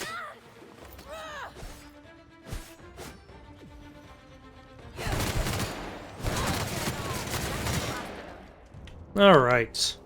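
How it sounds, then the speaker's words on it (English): Light machine gun fire in the video game The Outer Worlds, heard as dense rapid bursts that mow down enemies, loud and close, with sharper single shots and other game sounds in between. "my light machine gun basically just mows bad guys down"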